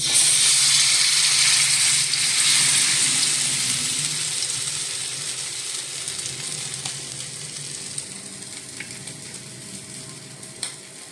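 Bangda (mackerel) fish coated in flour frying in hot oil, a loud crackling sizzle that is strongest at first and slowly settles into a steadier, softer fry with occasional pops.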